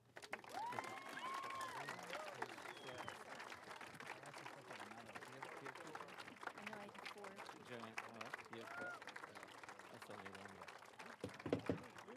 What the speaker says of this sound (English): a rousing round of applause will ensue